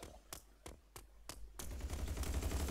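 In the video game Ratchet & Clank: Size Matters, four evenly spaced sharp shots ring out, followed by a dense, continuous burst of gunfire.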